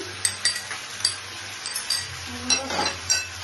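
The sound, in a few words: frying spices for paneer curry in a pan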